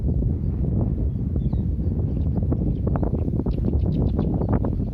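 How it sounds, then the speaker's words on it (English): Numerous birds chirp and tweet in quick, overlapping bursts against a steady rumble of wind and low background noise. "So many birds."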